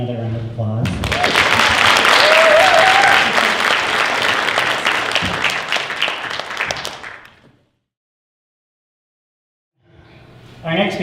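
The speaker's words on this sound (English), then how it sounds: "Please give him another round of applause." An audience applauds a speaker at a talk event, loud dense clapping that swells quickly and holds for several seconds before fading to silence, with a voice starting up at the very end.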